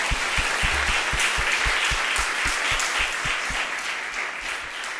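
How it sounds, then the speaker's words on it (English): An audience at a law review symposium gives sustained applause. Dense clapping carries on throughout, with a regular low thumping beneath it, and eases off slightly toward the end. "Let's do another round of applause."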